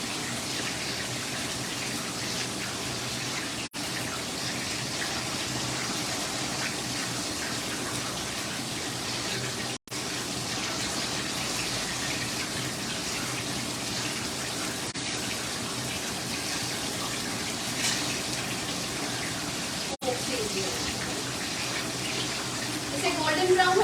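Water is poured into a cooking pan while making sugar-free barfi, a continuous splashing gush that runs steadily for over twenty seconds with only brief breaks.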